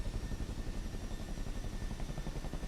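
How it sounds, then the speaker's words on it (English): Chinook tandem-rotor helicopter in Microsoft Flight Simulator 2024, its rotors beating in a loud, steady, rapid low thudding chop that runs throughout with a constant engine whine above it and no talking. "I still like the Chinook, though."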